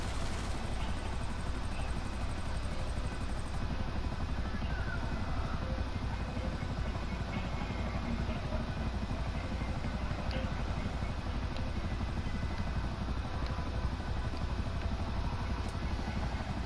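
Helicopters in GTA 5 give a steady, dense engine and rotor drone that holds at constant loudness throughout, broadband and close, with no distinct speech over it.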